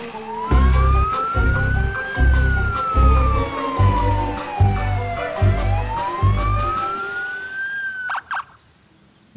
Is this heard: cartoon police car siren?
yes